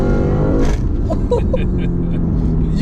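A 2008 Lexus IS F engine drones loudly and steadily with a throaty intake roar as it revs, with brief voices talking over it.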